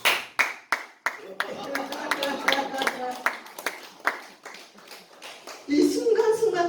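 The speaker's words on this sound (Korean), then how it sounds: "박수." Lecture audience claps in scattered, uneven bursts that thicken into a short round of applause, then thin out again near the end, fairly soft and close.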